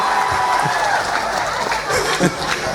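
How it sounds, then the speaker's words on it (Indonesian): A crowd at an Islamic Maulid Nabi preaching and music night gives a burst of applause mixed with chatter and laughter, a loud, dense hall sound that holds steady throughout. "tepuk tangan untuk para suami yang genek malam ini"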